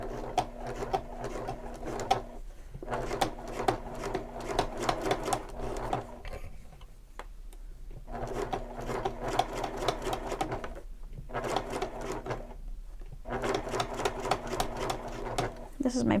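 A sewing machine stitches over the coils of a shoulder bag. Steady mechanical runs of rapid clatter last a few seconds each and stop between passes. It sounds close and moderately loud, with no talking over it.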